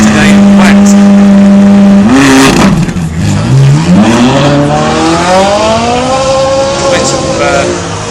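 A Ferrari 458 Italia of over 500 horsepower launches from the start line at a hillclimb event, holding a loud steady rev, bogging briefly, then climbing in pitch as it accelerates away, with a commentator talking over it.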